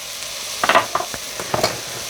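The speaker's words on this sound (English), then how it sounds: "Let's stir it up." Pepper being stirred into a Greek avgolemono lemon chicken and rice soup pot, a few soft scraping stirs and clinks over a low steady sizzle, with no talk.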